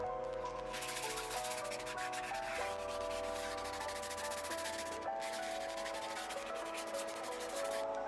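Sanding the dirty top of a vintage stool by hand, a steady, continuous abrasive rubbing that carries on without a break, close and fairly quiet, with a faint tonal hum running underneath.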